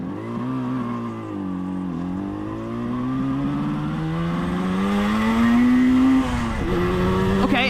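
A Moto Guzzi TS 250 motorcycle engine, warmed up and in neutral, revs up smoothly from idle, its pitch climbing steadily to a loud peak before dropping back, heard close and alone.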